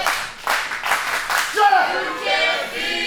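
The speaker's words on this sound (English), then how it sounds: "Just listen to the crowd here." A wrestling crowd claps and cheers in rhythmic bursts, then the sound shifts toward voices and chanting.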